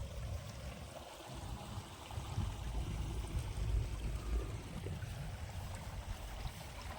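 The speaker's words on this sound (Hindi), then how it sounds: "ये पानी निकल रहा है" Water gushing steadily out of a farm tubewell into a rice paddy field, a low rushing flow with no voices.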